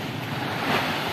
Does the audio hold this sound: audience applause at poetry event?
no